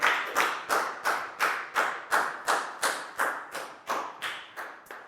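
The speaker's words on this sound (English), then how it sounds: "a big round of applause for Pak Bung" A classroom of students claps for a classmate, a brisk run of about a dozen even, sharp claps that sound like one or a few nearby hands rather than a large crowd, with no talking.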